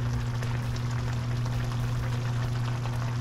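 Macaroni cooking in a pot of boiling water for American chop suey: a steady, continuous bubbling and simmering with a low hum underneath, close and even throughout.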